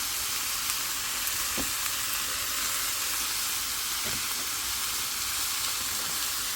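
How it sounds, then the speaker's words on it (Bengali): Chopped onions sizzle steadily in a hot frying pan, a loud, continuous close hiss with a couple of faint stirring knocks and no talking. "অনেকগুলো পেঁয়াজে কেটে রাখছিলাম সেখান থেকে দিয়ে দিতেছি"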